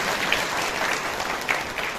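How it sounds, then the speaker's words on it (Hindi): A seated gathering at a Brahma Kumaris meditation centre in Sidhpur bursts into applause, a close, full clapping of many hands that rises and dips slightly but carries on steadily throughout. "तो जो यहां पवित्र आत्माएं बैठी अपने लिए ताली तो बजाइए"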